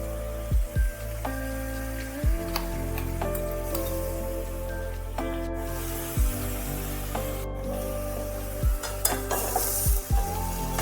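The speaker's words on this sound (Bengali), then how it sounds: "বাকি পেঁয়াজটাও দিয়ে দিচ্ছি।" Onion paste sizzles and fries in a pan for a lemon aloo dum potato curry, with steady stirring and scraping strokes recurring every second or two throughout, close and fairly loud, with no talking.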